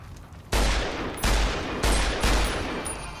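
Gunfire in the video game Fallout: New Vegas, four sharp, loud shots spaced under a second apart, each with a brief decaying tail, and no voices.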